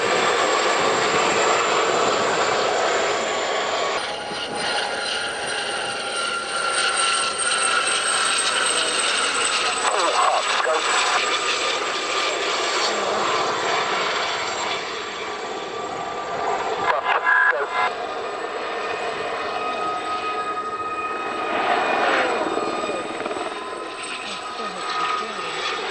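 A Gazelle helicopter flies a display at the Fairford air show in 1997, its turbine whine and rotor noise steady and fairly loud, carrying on at a distance beneath faint crowd and announcer sound.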